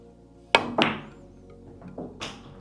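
Pool balls struck firmly with a cue and pocketed rail-first: two sharp close clacks in quick succession, then softer knocks and a final crisp hit as balls strike the cushion and drop, with no talking.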